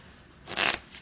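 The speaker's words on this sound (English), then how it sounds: "I will oftentimes shuffle the cards" A deck of playing cards shuffled by hand during a card trick, one short quiet riffling burst in a near-silent setting.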